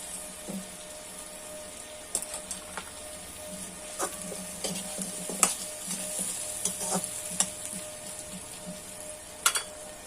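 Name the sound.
potatoes and onions frying together in a pan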